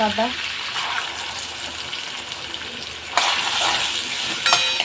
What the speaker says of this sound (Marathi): कांदा पण याच्यामध्ये छान असा फ्राय करून घ्यायचा आहे आपल्याला